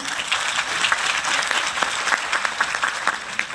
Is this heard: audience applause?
yes